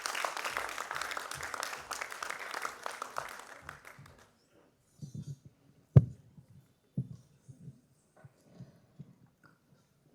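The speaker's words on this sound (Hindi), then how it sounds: "तो उनका तालियों से अभिनंदन करें," A moderate round of audience applause welcomes a performer about to present Vande Mataram at an Independence Day cultural programme. The clapping is steady for about four seconds, then gives way to near silence broken by scattered faint knocks and rustles.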